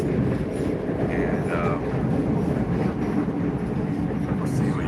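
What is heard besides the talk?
passenger train running from Loznica to Belgrade, Serbia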